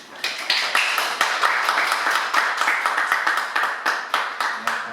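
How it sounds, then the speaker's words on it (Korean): A church audience at a book talk claps in welcome for a pastor taking the stage, a steady, fairly loud round of hand claps with rhythmic peaks that continues evenly throughout. "박수로 한번 환영해 주시기 바랍니다."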